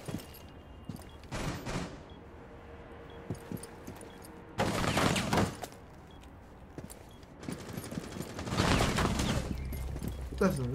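Bursts of gunfire in the tactical shooter Rainbow Six Siege, several rapid volleys at moderate distance separated by quieter gaps, with a voice talking at points.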